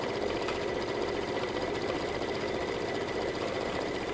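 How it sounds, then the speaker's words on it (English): A sewing machine fitted with a dual feed walking foot and a 1/4-inch sole runs steadily, stitching in a continuous fast mechanical whir, close and even throughout. "for the stitching, I'm going to be using my walking foot, my dual feed walking foot, with my 1/4-inch sole"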